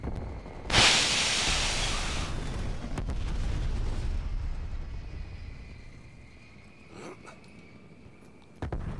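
Explosions from a precision airstrike strafe run in a video game: a loud, hissing blast rolls into a long rumbling roar that fades slowly, then a sharp crack near the end.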